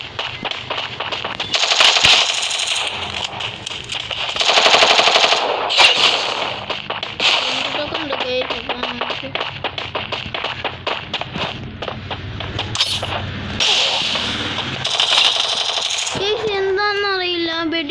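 Rapid bursts of gunfire in a shooting video game, with dense machine-gun rattles and sharp single shots repeating at close range, with a voice talking over parts of it.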